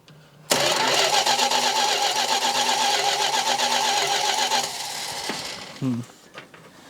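An old car or truck grinds through a cold start in sub-zero weather, its starter cranking in a steady rapid rhythm for about four seconds before cutting out, followed by a few faint clunks.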